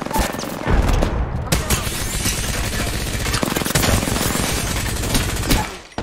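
Dense, continuous video-game gunfire with rapid automatic bursts and heavy booming shots, loud and sustained over six seconds with a brief dip near the end.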